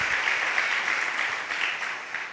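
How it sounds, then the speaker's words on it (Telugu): Congregation in church claps together in a steady, even wash of applause, dense and continuous with no single claps standing out. "చప్పట్లు కూడా దేవుని స్తుతించుదాం"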